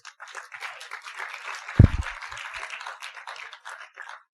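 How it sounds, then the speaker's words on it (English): An audience at a film festival acting session claps steadily for several seconds, a moderate, fairly distant patter with one sharp thump partway through. "Clap for yourselves."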